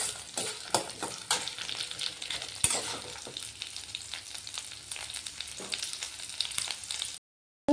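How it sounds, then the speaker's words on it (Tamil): Tomato chutney ingredients frying lightly in a pan, giving a steady close crackling sizzle with occasional stirring scrapes, alone without voices, ending in a brief silence. "லைட்டாக ஃப்ரை பண்ணிக்கலாம் நண்பர்களே"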